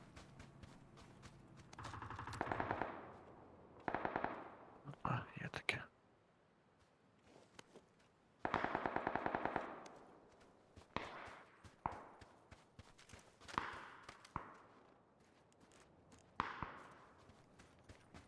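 Bursts of PUBG gunfire crackle intermittently, some rapid and sustained, others short, with hushed voices talking low between and over the shots.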